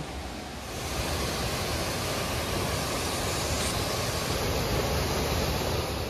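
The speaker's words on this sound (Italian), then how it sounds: "Le cascate di Monte Gelato sono quelle dove siamo noi adesso?" The Monte Gelato waterfalls in the Treia valley, Italy, roar continuously, a dense steady rush of falling water filling the whole clip without pause.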